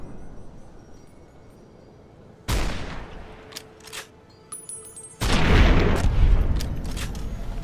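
Gunshots fired at a deathclaw in the video game Fallout: New Vegas, a sharp blast after a quiet stretch, a few smaller hits, then a second heavy, booming burst that rings on.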